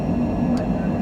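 Fixed-wing airliner engines roaring at takeoff power during rotation off the runway at Galveston, a steady dense rumble heard from inside the aircraft, very brief.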